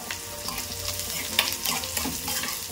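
Chopped taro leaf stems sizzle with cumin in a hot pan, a crackling, popping fry with stirring scrapes over a couple of seconds, near and without voices.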